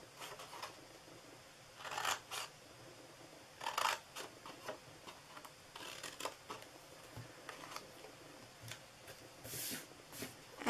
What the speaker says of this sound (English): And then on the bottom here, this 1 inch side, we're going to cut each one of these.